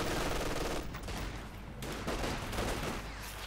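A .50 caliber heavy machine gun fires in a Company of Heroes 2 battle: rapid bursts of rattling gunfire over dense battle noise, with brief gaps between volleys.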